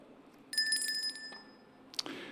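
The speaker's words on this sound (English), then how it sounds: "I'll ring this bell" A chair's small hand bell at a council urban planning committee meeting rings once with a bright metallic ding that fades slowly, followed by a second, softer strike near the end.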